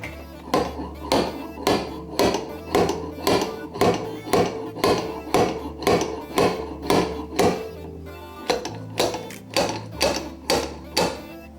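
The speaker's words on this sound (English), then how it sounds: "we're going to use a slide hammer to pull out the metal" Repeated metallic thuds from a slide hammer pulling dented metal on a Mitsubishi Lancer Evolution X body strike at a steady rhythm, roughly two per second, loud and close, with a brief pause partway through.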